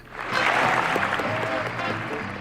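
A studio audience applauds, a dense wash of clapping that swells quickly and holds steady for a couple of seconds without any voices.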